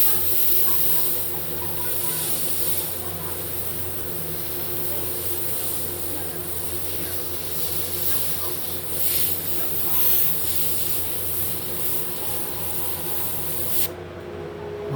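An airbrush sprays paint onto a T-shirt in a steady, continuous hiss that runs close and fairly loud for most of the clip before cutting off near the end, with no talking.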